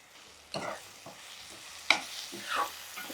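Dried shrimp frying in a pan with ginger garlic paste, a faint quiet sizzle broken by a few scraping stirs and soft clinks of a spoon.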